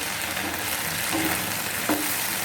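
Okra and spring onions fried in a pan, with a continuous close sizzle and a few soft stirring scrapes.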